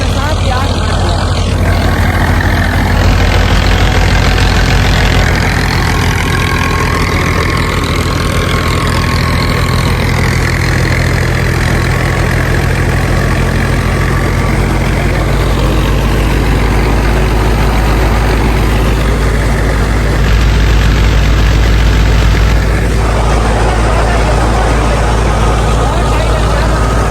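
A heavy diesel tractor engine idles loudly and steadily nearby during wheat threshing, a constant low throbbing rumble with slight shifts in pitch over the whole stretch.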